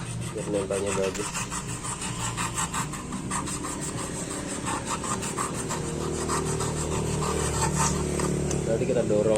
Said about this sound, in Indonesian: Kita amplas sedikit biar